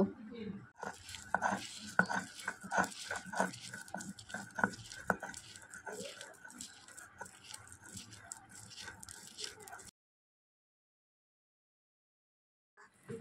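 Fried shrimp with onion, garlic and dried chilli being ground on a stone slab by hand: steady rhythmic crunching, scraping strokes, fairly close and quiet, continuing for several seconds before stopping into silence.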